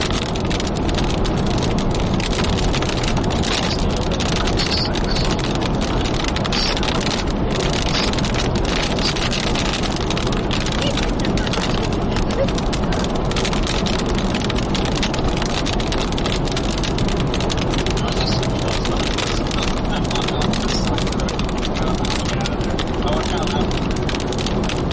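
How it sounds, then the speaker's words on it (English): Large hail pounds the roof of a storm-chasing car during a tornado-threat storm, a dense, loud, unbroken roar of impacts that continues from start to finish. "loudest hail hitting my roof that I've ever heard in my life."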